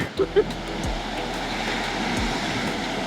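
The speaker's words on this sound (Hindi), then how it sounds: "बट इतनी तेज़ हवा है, इतनी तेज़ हवा है" Strong wind roars steadily into the microphone outdoors at Niagara Falls after rain, a broad rushing noise with a couple of brief thumps near the start.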